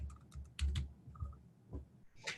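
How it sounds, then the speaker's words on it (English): Coordinate values being entered on a computer keyboard: several close key taps in small bursts with brief gaps, clear and unaccompanied by speech. "I can type in X coordinate and Y coordinate"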